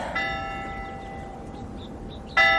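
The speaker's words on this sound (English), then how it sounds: "The bell is late again." A bell rings out clearly, one sustained ringing tone fading slowly over a couple of seconds before a second strike sounds, bright and resonant in a quiet room.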